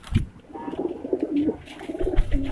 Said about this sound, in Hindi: चिट्ठा कबूतर